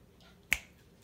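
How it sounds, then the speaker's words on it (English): A single crisp finger snap, close and sharp, in an otherwise quiet room. "And I snap my fingers."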